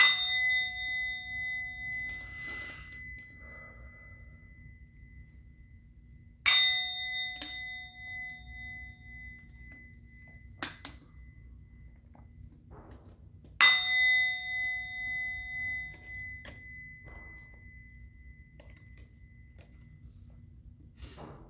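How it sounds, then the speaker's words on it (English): A bell is struck three times, each a bright metallic clang with a sustained ringing tone that slowly decays, spaced several seconds apart, with a faint low hum and a few soft knocks between strikes; no voices. "I'm going to ring the bell."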